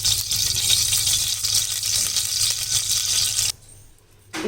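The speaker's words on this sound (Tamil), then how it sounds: "வச்சுட்டு இதுக்கு நல்லா நம்ம தேவையான அளவு எண்ணெய் விட்டுக்கலாம்" Oil poured into a pressure cooker set on a stove while cooking restaurant-style chicken kulambu, a steady liquid hiss and trickle running for several seconds, then cutting off abruptly into near-quiet before a brief return.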